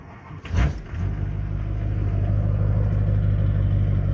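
An old diesel Jeep Wrangler, bought for $400, cranks briefly after its glow plugs warm up, catches, then settles into a steady, loud, close rumbling idle.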